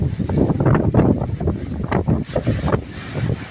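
Strong, gusty wind roars and buffets the microphone continuously with rain about, in Theni, India, a rushing, rumbling texture that rises and falls.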